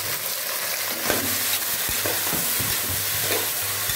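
Chopped vegetables being stirred and sautéed in a pan for a vegetable biryani, a steady close sizzle with scraping stir strokes and clinks throughout, no talking.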